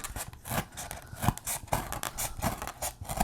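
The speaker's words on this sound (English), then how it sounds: "I'm just gonna go through with my X-Acto knife and sort of saw it in a way." An X-Acto knife saws back and forth through a card for a DIY MACUSA ID prop, giving quiet, close, rhythmic scraping and rasping strokes about every quarter second.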